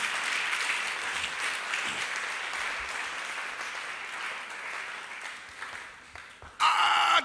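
A church congregation claps through a sermon, dense sustained applause filling the room at moderate volume, tapering slightly before a voice cuts in at the very end.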